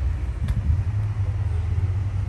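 The Fireball 700 engine of a show car at a Cruisin and Coffee car show in Midwest City, Oklahoma, giving off a deep, continuous low rumble with slight pulsing, steady and fairly loud close by.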